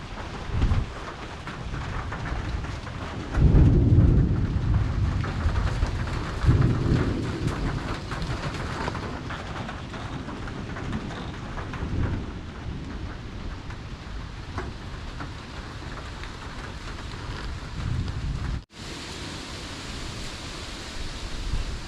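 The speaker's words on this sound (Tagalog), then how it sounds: "may paparating pong ulan" Steady heavy rain hissing throughout, with low rumbling swells like distant thunder rolling in a few times, then a brief cut near the end.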